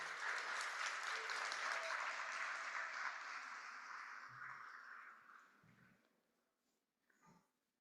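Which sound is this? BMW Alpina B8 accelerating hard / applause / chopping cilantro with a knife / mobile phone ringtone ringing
applause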